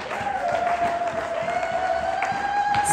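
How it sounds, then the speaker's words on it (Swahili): A church congregation at a Sunday service claps together, a dense sustained round of applause lasting a few seconds, with a held electronic tone ringing above it throughout. "Hebu mpe Yesu makofi."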